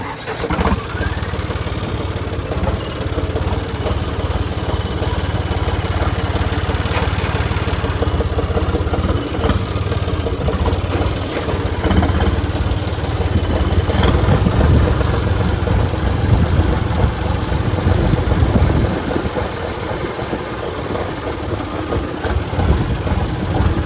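Tractor engine idles with a steady, continuous low rumble during farm straw-making work outdoors, holding an even level for the whole stretch with faint voices and field noise mixed in.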